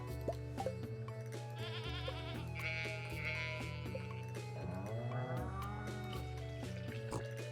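A goat in Stardew Valley lets out a wavering bleat alongside steady, tonal farm-game music, with a second bleating call following a moment later, both sitting in the mix at moderate loudness.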